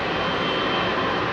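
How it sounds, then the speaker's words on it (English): The jet engines of an Air France Airbus A220 at Heathrow give a loud, dense, steady roar in one brief, unbroken blast. "That's an A220. Look at that. It's a little Air France 220."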